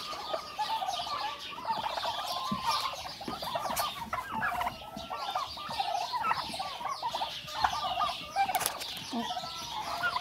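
Turkey hens and toms crowd close, gobbling and clucking continuously in overlapping bursts, loud and busy throughout.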